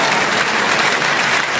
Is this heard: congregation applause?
yes